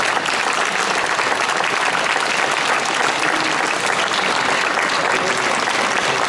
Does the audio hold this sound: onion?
no